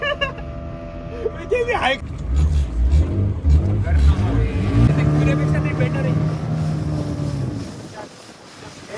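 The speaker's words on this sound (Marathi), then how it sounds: "आमच्या आमची बोट चालू झाली" A petrol motorboat engine running on open water, puttering and rising under wind buffeting on the microphone, with voices talking over it near the start.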